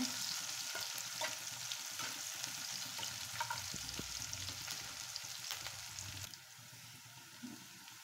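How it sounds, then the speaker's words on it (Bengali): Pointed gourd frying in a pan with green chilies, giving a dense, steady hiss of hot oil that stays close and even, with light stirring ticks and a slight drop in level near the end. "যতক্ষণ না একটা ভালো ফ্লেভার বের হয়ে আসে ততক্ষণ ভেজে নেবো এটাকে"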